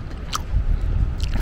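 A close bite and chewing into a fresh meat lover's pizza topped with bacon bits and jalapeno, a soft crunchy, squishy mastication that continues steadily without talk.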